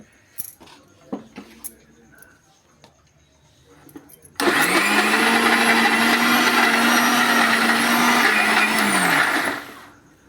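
After a few scattered clicks and knocks, a mixer grinder blending mint chutney with onion roars to life, whirring loudly and steadily for about five seconds before winding down.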